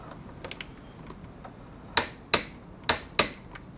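A torque wrench tightening a motorbike sprocket nut during a chain and sprocket change gives a few faint ratchet ticks, then four sharp, loud clicks spaced about half a second apart, close up in a quiet garage.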